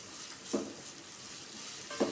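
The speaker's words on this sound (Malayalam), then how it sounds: "ഇനി നമുക്കിതിലേക്ക് നമ്മുടെ കട്ട് ചെയ്ത് വെച്ച ഓണിയൻ ആഡ് ചെയ്യാം. നമുക്കതെല്ലാം നന്നായി മിക്സ് ചെയ്ത് കൊടുക്കാം." Chopped onion sizzles softly in a pan for a kabuli chana masala, a low steady hiss with two brief scraping stirs, close by and quiet.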